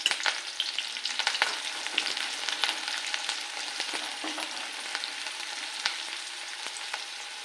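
Onions fry in a pan until browned for a Marathi fish curry, giving a continuous crackling sizzle with small spattering pops throughout, no voices.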